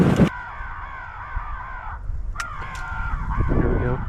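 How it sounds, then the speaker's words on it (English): An electronic crow call plays outdoors during a crow hunt, giving repeated harsh cawing in a continuous sequence at moderate loudness, with a few sharp knocks and some low background noise. "Get the electronic call out there. Let's turn it on and turn a crow call on."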